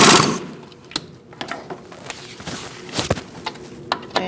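Close, loud mechanical clicking and ratcheting as CV axle bolts are tightened on a Chevrolet Colorado, an initial harsh burst followed by irregular short ticks and clunks.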